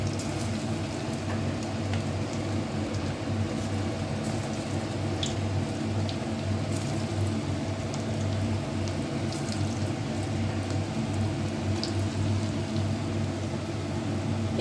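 Potato and puffed rice pakoras, shaped long, sizzle steadily in hot oil, a continuous dense crackle with fine popping that holds even and close throughout, no voices.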